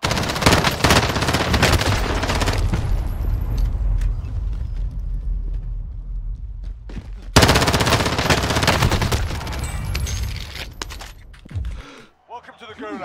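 Rapid machine-gun bursts rattle almost without pause in Call of Duty Warzone, loud and close with dense overlapping shots, a brief lull, then another long barrage before fading; a voice speaks briefly under the firing.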